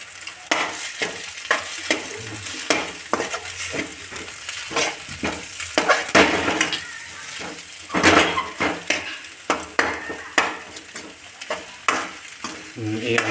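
Egg fried rice with onions stirred in a pan until dry, giving a continuous close sizzle overlaid with frequent scraping and clattering spatula strokes against the metal.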